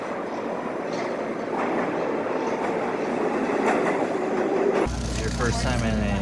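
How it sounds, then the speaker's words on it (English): Loud rumbling New York subway train ride with rattling wheels and screeching metal, ending in a high squeal as the car slows. "First time in a New York subway."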